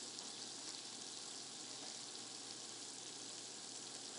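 Steady, close sizzling of onion and garlic frying in butter in a hot pan, a continuous crackling hiss with no talking.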